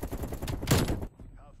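Rapid bursts of AK47 fire in Call of Duty Cold War, a loud, dense stutter of shots lasting about a second before cutting off abruptly to near silence.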